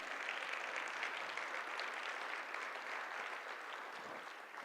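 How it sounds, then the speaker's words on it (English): Fainter, steady applause from an audience at a regional affordable housing forum greets the Clark County Commission chairman, an even wash of clapping that eases slightly toward the end. "Y'all give him a big round of applause."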